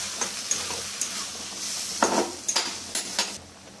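Strained masoor dal is sautéed in a pan, heard as a string of close utensil scrapes and metallic clinks over a light sizzle, with short bursts of stirring and no voices.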